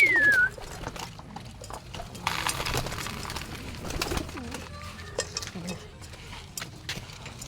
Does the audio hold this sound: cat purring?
no